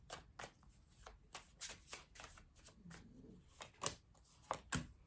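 Tarot cards being shuffled by hand in repeated quick riffling bursts, close and fairly soft, with no talking.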